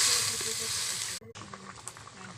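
Fish dropped into hot oil in a pan fry with a loud, bright, steady sizzle that cuts out briefly, then returns weaker with scattered pops and crackles, close up.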